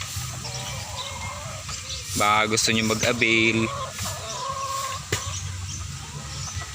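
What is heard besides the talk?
chickens and fighting roosters clucking at a poultry farm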